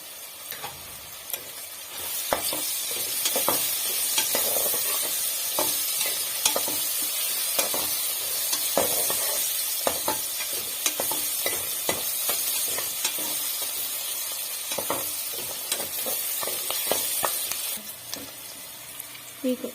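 Curry leaves and a pinch of turmeric crackle and sizzle in hot oil as they are stirred, with frequent spoon clicks against the pan over a dense, steady frying hiss.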